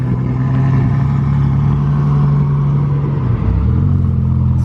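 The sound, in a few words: Ferrari cars of a rally driving off, engines revving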